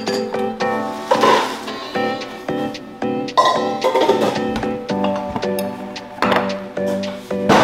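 Dishes clink and clatter close by as they are unpacked during a family's move: irregular ringing knocks and chinks of plates and glassware, with repeated bright strikes and short rustles, no talk.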